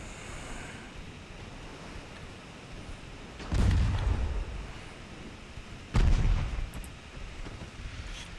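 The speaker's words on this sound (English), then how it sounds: "I'm really nervous about those big guns hitting me" Heavy naval guns fire twice in the Ultimate Admiral Dreadnoughts warship game, each a deep booming blast rolling out over a steady wash of sea and wind noise, with no voices.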